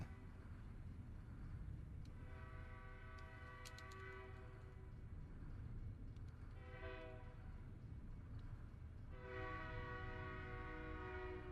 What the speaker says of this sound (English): Oh, great, we have a train.